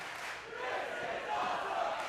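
A sold-out, standing-room-only wrestling crowd roars at the 2300 Arena during a six-man tag bout, a dense, steady wash of cheering and yelling that swells slightly partway through.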